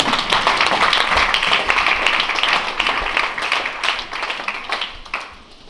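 A church congregation claps in a dense, steady burst of applause, loud and close, thinning slightly toward the end.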